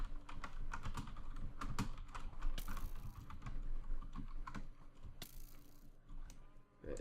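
Rapid, uneven typing on a computer keyboard during a Minecraft multiplayer session, with dense clattering keystrokes and a few louder key hits, close by and continuous with no talking.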